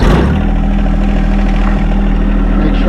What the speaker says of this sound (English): Basically start the thing up,